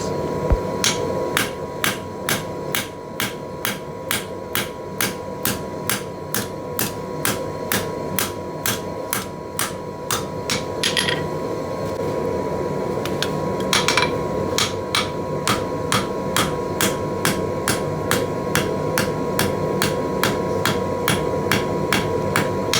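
A blacksmith hammering a chamfer onto the octagonal handles of forging tongs gives a steady, evenly spaced run of sharp metallic strikes, close and loud, continuing for over twenty seconds with a constant hum underneath.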